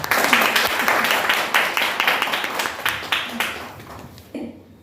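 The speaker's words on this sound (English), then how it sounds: "can we have a huge round of applause for her?" An audience at a live poetry night at The Playce in Mulund claps in a dense, steady burst of applause that carries on for several seconds and then cuts off near the end.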